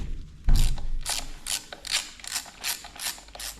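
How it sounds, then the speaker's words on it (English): Brake fluid reservoir cap on a Ducati Scrambler being unscrewed with a T20 Torx driver: a solid knock, then a steady series of about seven ratcheting clicks, close and fairly loud, with no voices. "For removing the brake reservoir cap, you need a"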